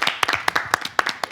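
Brisk applause fills a French TV studio, a quick burst of close, sharp hand claps from a small group.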